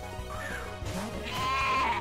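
A bleating, sheep-like Pokémon cry from the video game Pokémon Uranium, two wavering electronic bleats over game music and effects, the second higher and longer.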